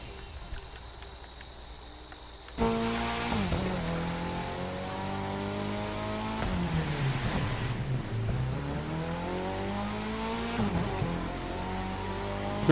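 A race car engine in the video game The Crew 2 drones steadily and loud, with pitch rising and falling through gear changes and revs, lasting over ten seconds with no talk.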